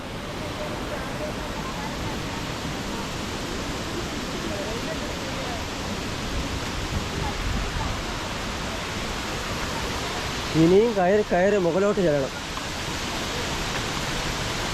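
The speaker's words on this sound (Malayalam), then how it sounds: "നല്ലൊരു വെള്ളച്ചാട്ടം തന്നെയാണ് ഇത്" Palaruvi waterfall roars as a constant broadband rush of falling water heard from nearby, with someone briefly speaking over it near the end.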